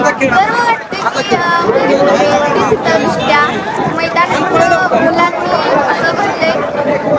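Dense crowd chatter and babble at a rural bullock cart race ground, many voices overlapping loudly and continuously with no pause.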